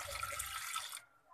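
Water splashing and gushing into a pot of cut potatoes, a short steady pour that stops abruptly after about a second.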